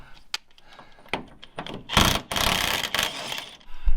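A ratchet fitted with a 1 5/16 inch socket works the nut on a Saginaw steering box, giving close, loud clicking bursts and grinding rasps in short irregular strokes that grow denser toward the end.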